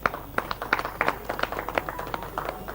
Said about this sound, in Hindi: खड़े होकर एक जोरदार तालियों के साथ स्वागत कीजिए मंत्री जी का